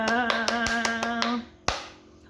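Several quick hand claps at a Thai-language welcome, about six sharp taps over a sustained musical tone, then one louder final clap after a short pause.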